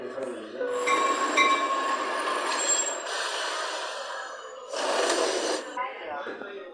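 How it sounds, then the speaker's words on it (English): A subway train in a video game pulls into a station with squealing, screeching wheels and a loud rolling rumble that fades and returns. It is close and continuous throughout, with a voice talking over it. "Oh, here comes the subway."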